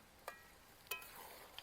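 Chicken and spices are stirred in hot oil in a pan under a low continuous sizzle, with two or three sharp spatula clicks against the metal. It is close and quiet, with no voices.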